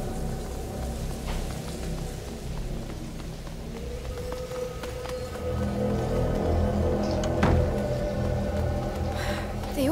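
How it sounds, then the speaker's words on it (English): Steady rain falls in A Plague Tale: Innocence, a broad hiss that swells louder partway through, with a brief sharp swish near the end and low game sounds underneath. "Lucas, Hugo, stay out of the rain"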